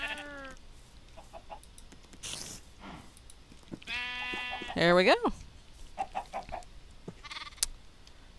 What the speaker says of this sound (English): And I can make some more sheep.